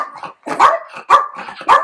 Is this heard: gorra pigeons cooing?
no